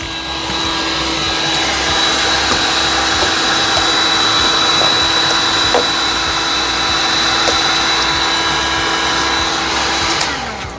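A heat gun blows steadily on a 3D printed part for heat treating, a continuous close whooshing hum with a high whine that holds evenly for about ten seconds before cutting off at the end.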